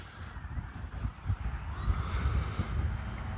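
Hobby Zone Aero Scout RC plane coming in to land outdoors, with a thin, steady high-pitched electric motor whine over gusty wind buffeting and low rumbling handling noise near the microphone.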